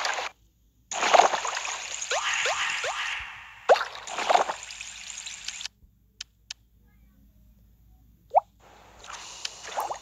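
Cartoonish water drips and plops from the mobile puzzle game Where's My Water 2, several bursts of bubbly gurgling and splashy pops separated by near silence, with a few isolated drip blips.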